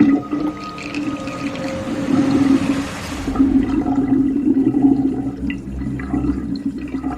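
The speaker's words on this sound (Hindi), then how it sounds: "बेसन में से पानी एक झटके में गरगराता हुआ पाइप से बह गया" Water from a sink basin gurgles and rushes down the drain pipe in one steady, loud flow with a churning, bubbling texture that eases slightly toward the end.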